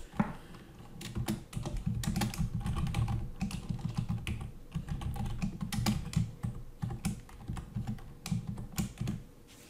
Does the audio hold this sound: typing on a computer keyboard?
yes